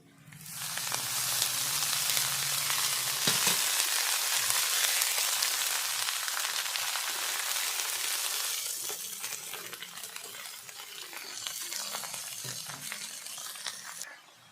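Pea greens (motor shak) frying in a hot pan after being added to reddened oil, a loud steady sizzle that settles down and continues with occasional stirring scrapes, close up and without talk.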